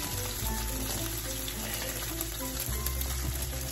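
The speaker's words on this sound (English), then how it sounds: "Let that fry up for another 30 seconds or so." Fish, striped bass or bunker, frying in a pan, a steady close sizzle and crackle running evenly throughout with no talk over it.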